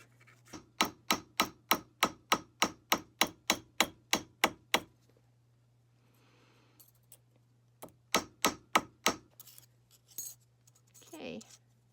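A hammer texturing a copper spiral earring: a quick, steady run of about fifteen bright metallic taps, a pause, then a shorter burst of four or five more, close and clear over a low background hum.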